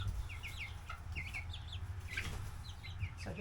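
Baby chicks being moved outside peep in repeated high, quick chirps over a steady low rumble of background noise, moderately near, with a soft rustle near the end.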